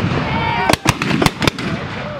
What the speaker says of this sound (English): So, we're going to have a little bit of an exchange of fire between our two gun groups now.